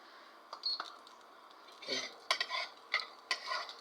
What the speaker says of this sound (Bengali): ভালোভাবে এই নাড়াচাড়া করবো ভাজবো